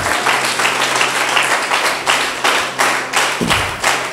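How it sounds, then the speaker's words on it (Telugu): A church congregation claps loudly together in a steady rhythmic beat, about two claps per second, each clap a sharp, close burst, with a low droning hum underneath and no speech. "గట్టిగా చప్పట్లు కొడతాం"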